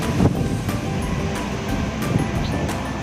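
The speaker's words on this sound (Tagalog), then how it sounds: "Hangin." Gusty outdoor wind during a rainy wedding setup in Silang, Cavite, a steady broadband rush buffeting the microphone with a few soft thumps, continuous for about three seconds.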